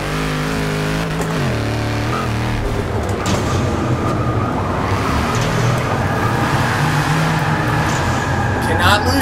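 A Dodge Challenger Hellcat in Forza 6 roars loudly with its engine revving and tires spinning and peeling, a continuous dense mechanical drone that shifts pitch as gears change, with a voice talking over it.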